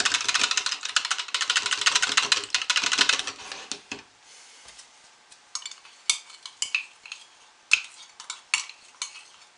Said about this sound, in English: with a teaspoon of ultramarine blue. I'm going to mix that in.